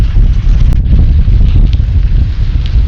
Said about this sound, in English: We've got a wind blowing from the northwest too, so it's quite strong.